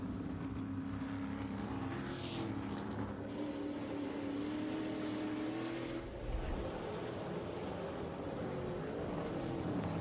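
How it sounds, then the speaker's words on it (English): SRX race car engine droning under light throttle off a corner at Sharon Speedway, a steady, fairly loud mid-pitched roar with subtle pitch shifts, blended with other cars and crowd noise in the background. "listen to how gently Chase is on the gas here"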